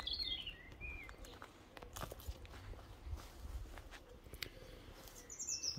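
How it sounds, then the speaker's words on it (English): A bird sings in the garden of a period cottage in Castle Acre, Norfolk, with faint chirps near the start and again at the end over soft footsteps and outdoor ambience. "Just been serenaded by a bird"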